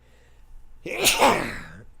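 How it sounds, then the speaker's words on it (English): A single sharp sneeze bursts out after a brief intake of breath, close and fairly loud, trailing off quickly. "I feel like I got to sneeze."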